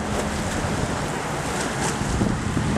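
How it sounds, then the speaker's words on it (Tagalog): Sea waves roll and wash under strong wind buffeting the microphone, a dense, continuous roar close and loud with no clear breaks. "Masyadong maraming alon."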